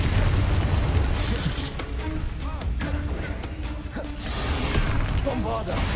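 Confringo and Bombarda blasting spells go off in Hogwarts Legacy as repeated booming bursts and crashes over a dense game mix, with a voice talking over parts of it.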